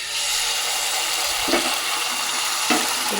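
Beaten egg with salt, onion and green chilli frying on an oiled griddle, giving a dense, even hiss throughout with two brief scraping touches of a spatula.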